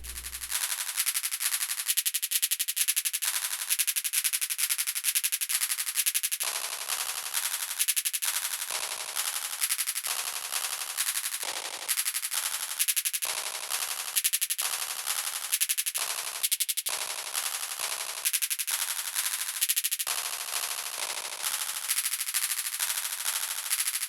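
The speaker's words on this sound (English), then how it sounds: "you'll hear that it will pick a different pitch for every repeat of the sample" A noisy, hissing drum sample from a SpecDrum drum machine repeats rapidly and continuously in quick bursts, each repeat at a different pitch, harsh and loud throughout, with no voices.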